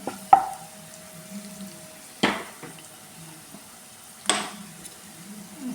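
Pickle with chili and turmeric powder is stirred in a pan, a faint low sizzle punctuated by three sharp spoon knocks and scrapes spaced about two seconds apart, fairly quiet and alone.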